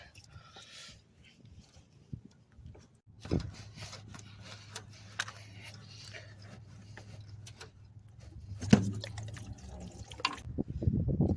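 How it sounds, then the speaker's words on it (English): Engine coolant drains from a removed hose on a 2012 Honda Civic, a trickle and patter of liquid growing into a steady flow with scattered drips, knocks and handling noises, and some faint voices around it. "We're gonna be dropping a lot of fluid."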